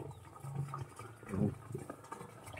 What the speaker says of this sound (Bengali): স্পিডে জল যাচ্ছে। খুব শীঘ্র তাড়াতাড়ি জলটা চলে যাবে।